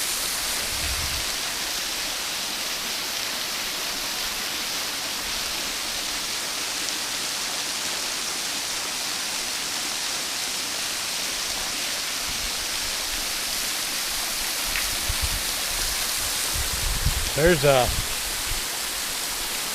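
Steady rushing water of Keown Falls, a woodland waterfall on a rocky trail, fills the scene as constant broadband roar, with brief handling noises near the end.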